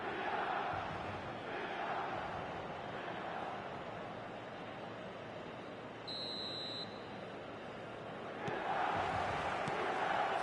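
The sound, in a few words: stadium crowd before kick-off in a football video game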